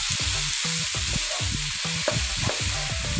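Small hilsa fish coated in a paste of green chilli and mustard fry in a pan with a steady, dense sizzle, joined by regular scraping stirs throughout.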